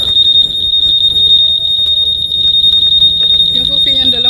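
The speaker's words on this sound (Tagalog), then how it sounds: "Buhay pa siya, nag-alarm pa siya." A vehicle alarm sounds as a steady, piercing high-pitched tone throughout, loud and continuous, while people talk nearby.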